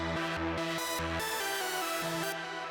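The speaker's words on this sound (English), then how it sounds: "Yep, trance lead." Trance lead synth from an emotional bass music track plays a bright, buzzy sustained melody over a rhythmically gated low pattern, full and steady throughout without any speech.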